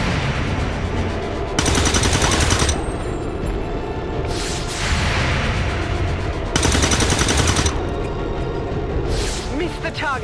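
Gunfire in the video game XCOM 2 War of the Chosen comes in two loud, dense bursts about five seconds apart, set against a steady backdrop of in-game ambience and effects.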